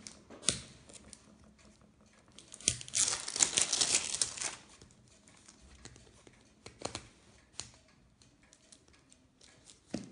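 Plastic LOL Surprise toy packaging being crinkled and torn open up close, with sharp crackles, a sustained loud tearing rustle in the middle and scattered lighter crinkles and taps afterward.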